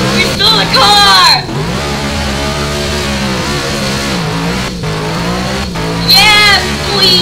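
A stolen car drives in the Roblox Ultimate Driving game, engine loud and steady with revving swells and short squealing bursts, voices talking over it throughout.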